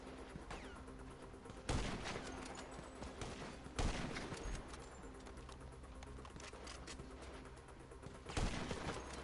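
Gunfire in GTA V, with a handful of loud, sharp shots spaced a few seconds apart over a dense, busy game soundscape.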